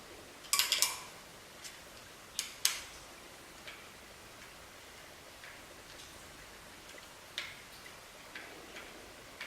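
Metal clicks from an Allen key turning a throttle screw, a cluster of small sharp ticks near the start and then sparse, faint single taps spread out over quiet background hiss.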